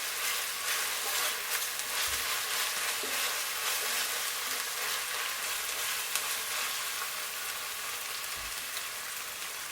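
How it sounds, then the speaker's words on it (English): Ingredients for njangsa sauce frying in a pan: a steady, even sizzle and crackle with faint occasional stirring knocks and no talking. "Fry all of this together for about 5 minutes."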